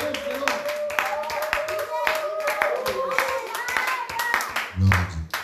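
A church congregation claps rhythmically in acclamation during a worship service, with steady hand claps mixed with voices and singing.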